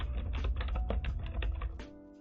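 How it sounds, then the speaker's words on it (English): Rapid clicking keystrokes on a loud computer keyboard, close and fairly quiet overall, tapping in an uneven burst before trailing off into stillness. "I'm sorry, my keyboard's loud."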